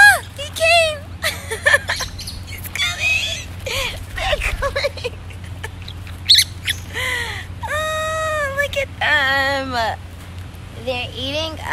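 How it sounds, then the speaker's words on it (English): Birds flocking in to be fed at Montego Bay: repeated harsh caws and chirps from several birds, some close and loud, interleaved with a person talking throughout. "I'm going to feed the birds. Let's see if they come."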